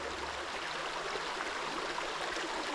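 Devil's Hole Creek flowing through a valley in Paradise Valley, a constant broadband rushing of water that stays steady and moderately close throughout.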